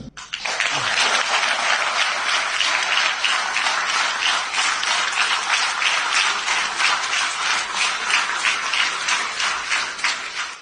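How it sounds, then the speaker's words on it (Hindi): Loud, sustained applause from a crowd at a political gathering, continuous dense clapping filling the whole stretch with no voice over it. "लोगों ने इतनी ताली बजाई है"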